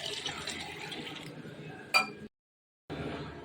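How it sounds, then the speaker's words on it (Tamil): Water pours steadily into a jar close up, with a single clear glassy clink partway through, then a brief silence before the pouring resumes. "தண்ணி ஊற்றிக்கலாம்"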